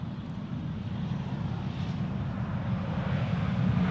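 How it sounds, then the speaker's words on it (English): An airliner landing with idle reverse thrust, a steady, loud low-pitched jet rumble that builds slowly over a few seconds, with no voices. "Another idle reverse, no reverse landing"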